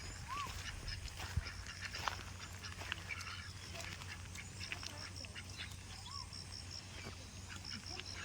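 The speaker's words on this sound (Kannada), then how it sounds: "ಆ ಕಡೆ ಸ್ವಲ್ಪ ದೂರದಲ್ಲಿ ಡಕ್ಸ್ ಇದೆ" Ducks quack faintly at a distance near a pond in an outdoor park, brief scattered calls over a constant open-air background with murmuring voices now and then.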